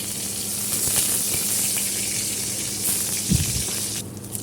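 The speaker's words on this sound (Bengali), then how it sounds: "তার জন্য আমি কড়াইতে প্রথমে রসুন আর শুকনো মরিচ দিয়ে দিয়েছি" Garlic and dried chillies sizzle in a hot wok, giving a steady, fairly loud frying hiss that continues without a break, with a faint clink near the end.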